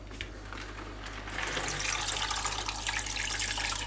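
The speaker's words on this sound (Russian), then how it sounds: "дальше заливаем водой." Water gushes steadily into a metal pot of pork trotters for aspic, the splashing growing fuller and louder after a moment, with a low hum underneath.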